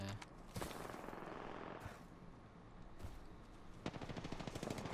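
Gunfire in the video game Apex Legends, rapid bursts of automatic shots crackling in quick volleys with brief pauses, fairly loud against a steady game backdrop.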